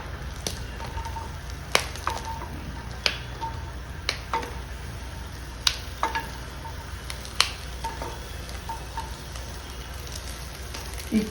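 Pieces frying in a pan for a chicken liver fry: a continuous close sizzle broken by regular sharp clicks and taps from stirring, with no voices.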